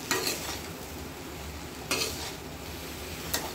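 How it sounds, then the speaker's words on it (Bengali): Chopped vegetables with prawns stirred in a pan, heard as a low continuous sizzle with three brief scrapes of a spoon spaced out, close and fairly quiet. "এগুলো একটু নাড়ে চেড়ে আমি মিশিয়ে দেব।"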